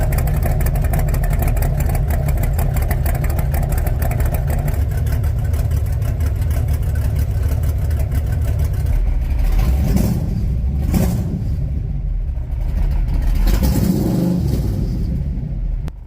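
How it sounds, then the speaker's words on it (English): A Gen2 LT1 350 V8 with a Summit 8801 Pro cam idles close and loud with a rhythmic, choppy lope, a deep rumble that shifts and wavers partway through. "I wanted to see if I could force it to lope, so I reduced the RPM even more"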